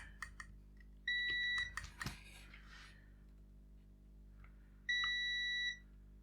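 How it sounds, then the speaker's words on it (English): A beeping electronic test device probes a circuit inside a Tiger Dear Diary handheld with no power, giving two steady, fairly loud electronic tones about a second long each, separated by faint clicks and handling noises. "let's start poking around the place with my beeping device"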